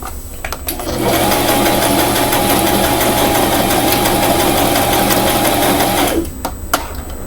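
An electric sewing machine stitches a pink frock in one steady, continuous motor run with a rapid needle chatter, starting after a second and stopping abruptly near the end, recorded close and loud without talk.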